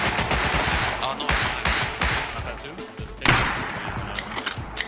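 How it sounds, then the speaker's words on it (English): Gunfire from fire ammo in the survival video game Rust, with bursts of rapid shots and sharp cracks running throughout, loud and close, mixed with game noise. "I'm shooting fire ammo at him."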